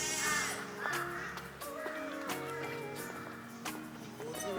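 Crows caw repeatedly in a mountain setting near Shimla, sharp calls rising over steady outdoor background noise and faint voices.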